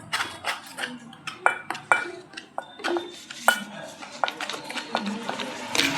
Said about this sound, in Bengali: বেসনটাকে গুলবো, আর দিয়ে দেবো একটু হলুদ গুঁড়ো, দিয়ে আগে শুকনো একটু মিক্স করবো ভালো করে